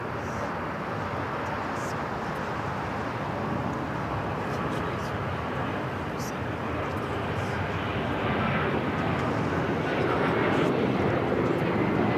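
Airliner landing at LAX and slowing to turn off at taxiway Alpha 8, a steady distant engine rumble and wash that swells slightly toward the end, with voices over it.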